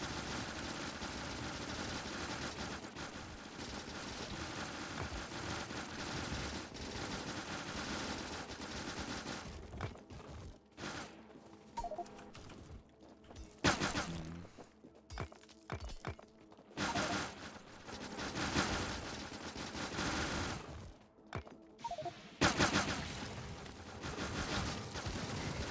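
Robots firing guns in the video game Factorio: dense, sustained bursts of rapid automatic gunfire, loud and continuous at first, then broken into choppy volleys with brief gaps.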